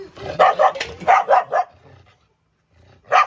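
A dog barks in a quick run of five or six loud, close barks, pauses briefly, then lets out one more bark.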